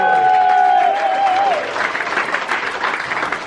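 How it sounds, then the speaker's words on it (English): A comedy show audience breaks into loud applause for the comedian, a dense, sustained burst of clapping that follows a held tone and continues steadily to the end. "Give him a big round of applause"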